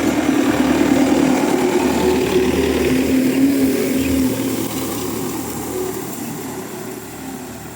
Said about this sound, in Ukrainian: Трактор без нагрузки йде,